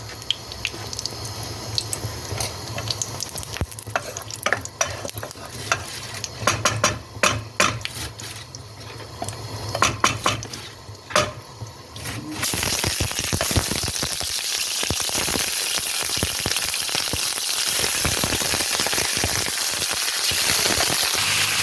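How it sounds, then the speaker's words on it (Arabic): Chicken frying in oil in a pot: light crackling and popping first, then a sudden loud, steady sizzle that holds to the end, close up with no talking. "نقلو الدجاج قبل، نحمروه شويه في الزيت باش يجي بنين بالطبع"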